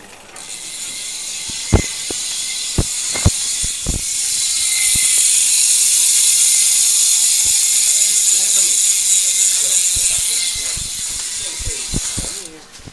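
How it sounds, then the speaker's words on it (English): A Princeton Peak 4550 bicycle wheel freehub on a 2022 Pinarello Dogma F buzzes with a fast, continuous ratcheting click while coasting, punctuated by sharper clacks near the start and end. "You're on the free-out body sound test right now."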